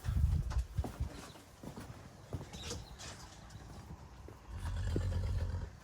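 Hungry farm horses neigh and whinny in loud bursts near the start and end. Shuffling and light hoof sounds fill the quieter stretch between the calls.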